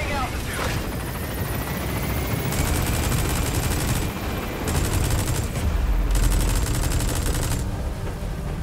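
Rapid, sustained gunfire in Metal Gear Solid V: The Phantom Pain, rattling in dense bursts with short breaks, loud and close, mixed with steady engine-like drone and game ambience.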